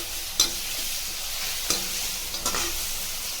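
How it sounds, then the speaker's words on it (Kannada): Masala with salt and turmeric sizzling in a pan, broad steady frying hiss with a few sharp spoon scrapes against the pan at spaced intervals. "ಇದನ್ನು ಚೆನ್ನಾಗಿ ಮಿಕ್ಸ್ ಮಾಡ್ಕೊಳ್ಳಿ."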